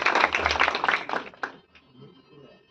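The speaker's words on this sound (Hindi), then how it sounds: "एक बार ताली हो जाती है आपको भी मिल जाएगी" A classroom group claps for a student's answer in a quick burst of many hands lasting just over a second, then fades into quiet room noise.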